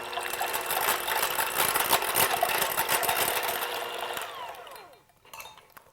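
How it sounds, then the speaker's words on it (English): An electric mixer whirs steadily as it beats two eggs in a bowl, then winds down and stops near the end. "in this bowl, I've got 2 eggs. And we're going to beat those."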